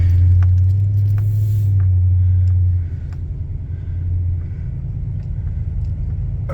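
A 2004 Toyota Sequoia truck drives along with a steady, loud low engine and road rumble, heaviest in the first three seconds and then easing slightly but continuing throughout.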